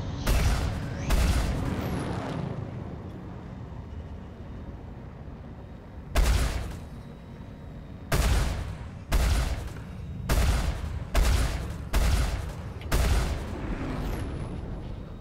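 Gunfire in the space game Star Citizen: sharp, loud bursts of shots come in irregular clusters, some single and some rapid volleys, over a low rumbling background hum.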